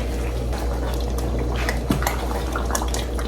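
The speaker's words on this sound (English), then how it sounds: "Let's add a little bit of water." Water trickles and splashes into a pot of Nigerian ogbono soup with a steady liquid gurgle and faint clinks over a low background hum.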